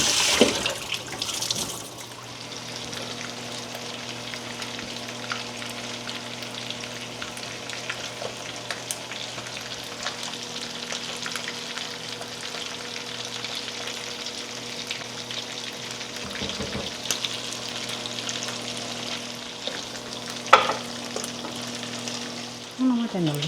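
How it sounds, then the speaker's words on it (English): Salmon fillet frying skin-side in a pan for a weekday dinner, a steady soft sizzle running throughout with faint kitchen clatter and a brief tap of water near the end. "I flip it over one last time for a few minutes after I get my skin crispy."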